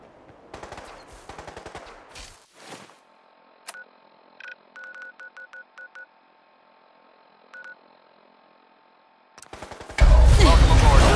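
A rapid volley of gunshots in Fallout 4 cracks out close and loud. It gives way to a quiet stretch of short electronic beeps, then a sudden heavy roar at the end.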